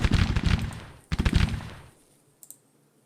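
Gunfire in a war video game aimed at an artillery crew: two quick bursts of close, sharp shots, then a brief pause and a couple of faint, distant reports.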